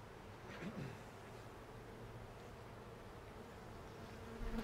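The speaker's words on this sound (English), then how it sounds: "Let me get rid of some of those bees, huh?" Bees buzz around an open-air comb nest during a hive rescue, a steady, close swarm hum running throughout with a brief swell near the start and a louder rise at the end.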